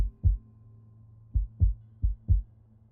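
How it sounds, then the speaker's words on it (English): A heartbeat in the medical video game Do No Harm, deep thumping beats in an uneven rhythm: one single thump, then a pause, then four regular beats, heard clearly with no other sound. "Heartbeat's normal."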